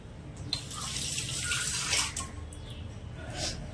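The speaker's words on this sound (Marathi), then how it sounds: "मी आता थोडंसं ह्याच्यामध्ये पाणी टाकणार आहे" Water is poured into a thick fasting-style dosa batter, a quiet splashing trickle that swells and eases in uneven bursts, close by and with no voices.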